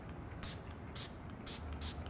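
Four short hissing bursts of Final Seal makeup setting spray mist out over a quiet room, evenly spaced and close, each a soft airy spritz lasting a fraction of a second.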